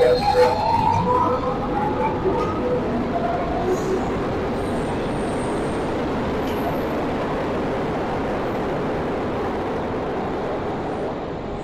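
A steady, loud rumbling roar of a metro train running through a station in Portugal, with a rising whine early on and a constant rushing noise throughout.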